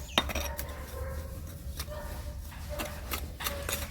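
A small tool hoes and loosens soil in a bougainvillea pot, producing scattered scraping taps and clinks at an uneven pace, close by and fairly quiet over a low background hum.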